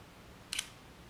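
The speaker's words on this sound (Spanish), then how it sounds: "Avanzamos la película, que además carga el obturador," A single short mechanical click-whir as the film is advanced and the shutter cocked on an AKA Akarette 35mm camera, brief and close in a quiet room.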